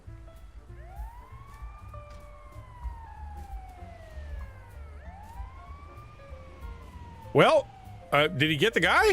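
A fire truck siren wails in long rising and falling sweeps at moderate distance, followed by sharp bursts of air-horn blasts near the end, with someone talking over it.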